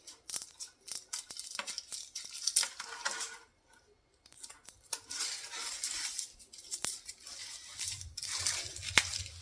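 A knife slices the root off a garlic bulb with dry papery skins, giving close, quiet crunching and scraping cuts in irregular bursts, and a short pause partway through.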